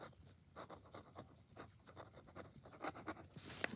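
Hand writing short notes on paper, faint close scratchy pen strokes in quick irregular bursts, quiet and without speech.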